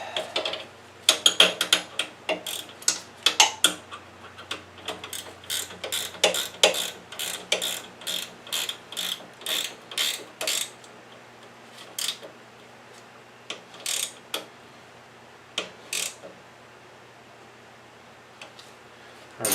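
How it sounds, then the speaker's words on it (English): Tightening a banjo bolt on a go-kart with a ratchet: clicking pawl strokes in quick bursts, then slower spaced clicks, close and clear in a quiet workshop. "Now, just tighten up the banjo bolt."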